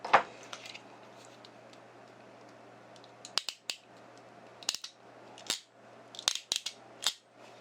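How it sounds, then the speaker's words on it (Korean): A handheld crimping tool presses a metal sleeve on a fishing rig, giving several sharp, quiet clicks and snaps in small clusters against a faint steady hum. "여기도 압착기로 눌러서 압착을 해주겠습니다"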